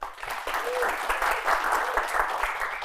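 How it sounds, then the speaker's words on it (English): Steady applause from a seated audience at a public talk on communication, a dense even patter of many hands sustained at moderate volume throughout. "Yes, give applause."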